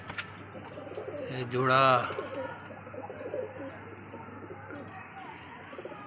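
A pair of teddy pigeons, male and female, give a short, close coo in a single burst, while someone talks over the birds before and after it.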